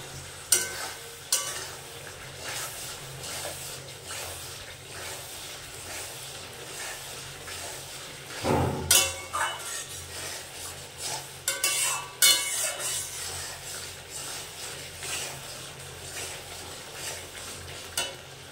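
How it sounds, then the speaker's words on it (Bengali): Ground spice paste of cardamom, cinnamon, cloves, black pepper, bay leaf and cumin stir-fried in a pan for jackfruit curry, a steady sizzle with repeated scraping of a spatula and occasional knocks against the metal. "আবারও মশলাটাকে খানিকক্ষণ কষে নেব"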